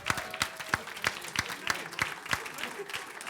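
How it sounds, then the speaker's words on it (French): Audience applause for two improv teams at a Saguenay versus Rosemont improvisation match, scattered claps with sharp individual hits, moderate and fairly close, with a voice talking over part of it. "Je veux qu'on leur donne une super grosse main d'applaudissements."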